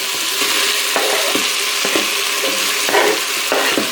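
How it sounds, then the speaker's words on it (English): Chorizo fries in the pot of a Cosori pressure cooker, with a loud, close, continuous sizzle and a spoon scraping and stirring at a regular pace. "Fry that for a little."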